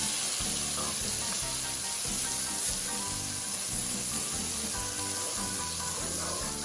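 Butter melting and sizzling in a pan over medium-high heat while a crab dip is being made, a steady, soft frying hiss with a faint rhythmic background pulse, no talking.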